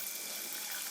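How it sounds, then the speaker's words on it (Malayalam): Plain soda is poured slowly down the side of a glass into a homemade virgin mojito mocktail, giving a soft, steady fizzing hiss heard alone. "ഇപ്പോൾ സോഡ ഒഴിക്കുമ്പോൾ ഒരു കാര്യം ശ്രദ്ധിച്ചോണം, ഇങ്ങനെ സൈഡിൽ കൂടി ഇങ്ങനെ പയ്യെ വേണം ഒഴിക്കാൻ."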